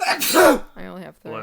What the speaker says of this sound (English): Editor, don't cut that sneeze out.